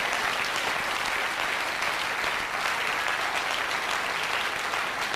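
The crowd at the 1996 WEPF World Pool Championship final applauds, a loud, dense, sustained clapping that fills the whole stretch without a break.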